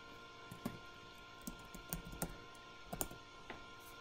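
Keys clack on a computer keyboard in short, scattered taps, a few isolated strokes and small clusters, quiet and close, with no talking.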